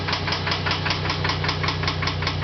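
A dying engine with little or no crankshaft oil pressure knocks steadily, with a fast, even metallic rap over a low rumble, close up and with no talking.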